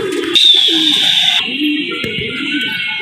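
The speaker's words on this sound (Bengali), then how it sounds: "এটা একটা মাদি কবুতর" A female pigeon coos in low, soft, repeated phrases close by, with a steady high electronic tone running underneath.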